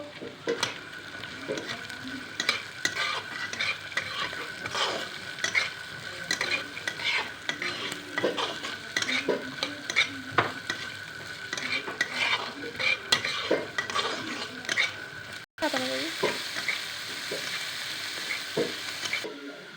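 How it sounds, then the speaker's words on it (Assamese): Chickpeas fry in a pan with onion and chilli while a spoon scrapes and stirs them again and again, over a constant sizzle, with one short break near the end. "এইখিনি 1 মিনিটমান ভাজিব লাগিব।"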